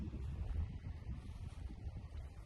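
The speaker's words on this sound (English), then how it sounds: "It's a bit windy out here, sorry if you hear the wind." Steady low wind rumble buffeting the microphone outdoors in an orchard, a continuous gusty roar with no voices.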